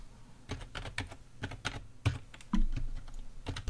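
A password being entered on a computer keyboard: a close, quiet run of irregular keystrokes with brief pauses between clusters of taps, heard on its own.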